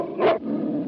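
A dog gives one short, rough growl, a brief burst lasting a fraction of a second against a faint room background.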